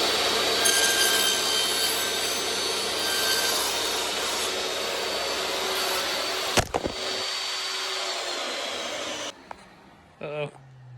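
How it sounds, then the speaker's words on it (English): Power saw cutting away wood to leave a tenon while building a sideboard, a loud, steady buzzing whine that holds for about nine seconds before cutting off, followed by a few brief knocks and handling sounds. "And then on this side I have to set the saw blade to cut that depth, and again I'll cut that away and leave a tenon"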